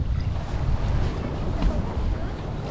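Strong wind buffets the microphone on the water at Captree while crabbing in rain, a loud steady roar with gusty low rumble and surf-like wash throughout.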